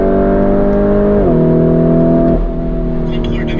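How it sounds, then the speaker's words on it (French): Lamborghini Urus engine pulling under acceleration, a steady droning note that steps down with a gear change, then eases off as a voice starts talking near the end. "Bon, faut quand même un peu accélérer."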